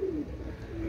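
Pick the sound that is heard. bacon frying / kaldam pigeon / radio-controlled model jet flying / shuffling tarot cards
kaldam pigeon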